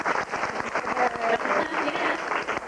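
Children and adults in a school awards ceremony audience clap in dense, continuous applause, close and fairly loud, with no voices standing out.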